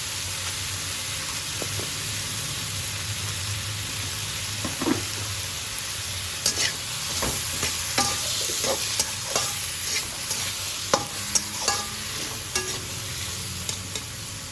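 Steady frying sizzle with repeated scraping clicks of a spatula stirring turmeric and salt in a pan for a greens dish, close and continuous, no talk.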